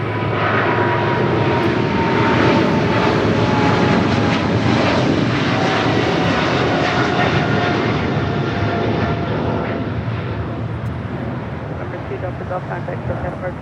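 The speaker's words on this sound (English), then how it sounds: "That is China Southern Cargo Flight 474 departing to Guangzhou on a 777 freighter." A China Southern Cargo Boeing 777 freighter departs Los Angeles International Airport with a loud, sustained jet engine roar that stays strong and then slowly fades a little near the end.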